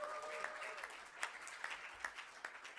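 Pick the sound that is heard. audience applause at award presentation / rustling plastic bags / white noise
audience applause at award presentation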